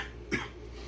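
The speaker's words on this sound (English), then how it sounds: "Here I am coughing." A single short cough sounds once, moderately close, over a steady low background hum.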